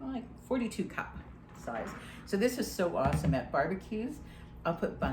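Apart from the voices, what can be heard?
No everyday noises stand out.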